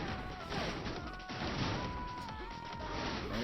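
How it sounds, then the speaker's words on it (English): Grenade explosions in a competitive video game match crash and boom in a dense, continuous barrage of overlapping blasts, loud and busy with no voices over them. "It's going to be a double nade. And again, the explosion of the AoE catches Iceman out."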